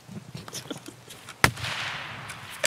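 A single sharp gunshot in the video game Escape From Tarkov cracks out mid-clip, followed by a lingering noisy tail, with faint scattered movement sounds around it.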